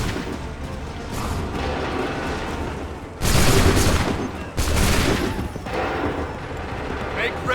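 A massed musket volley from a line of soldiers in Assassin's Creed III: two loud, dense crashes of simultaneous gunfire a second or so apart, standing out sharply over background battle noise.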